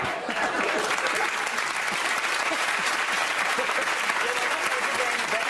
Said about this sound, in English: You people, will you just clap anything?